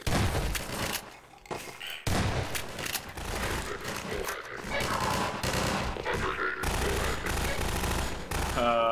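Half-Life 2 combat: sustained rapid gunfire and heavy impacts fill the scene, loud bursts nearly continuous with a brief lull, joined by clanks and thuds, and a voice faintly underneath.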